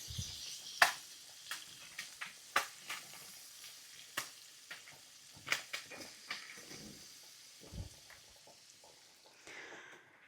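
Butter and olive oil melting in a pan give a soft crackling sizzle, with scattered pops and a few utensil clicks, faint and close, no voices.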